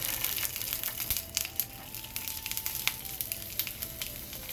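Vegan steaks laid into a hot oiled pan give a steady crackling sizzle with scattered pops and crisp spatters, close and fairly quiet, with no talking.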